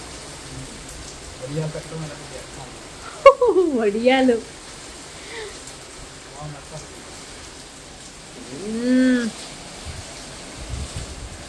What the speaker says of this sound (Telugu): వర్షం వస్తుంది అన్నమాట